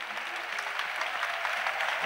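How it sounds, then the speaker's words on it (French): Steady applause from a crowd, many hands clapping densely and evenly throughout, fairly close and without a break. "Acclamation. Clap."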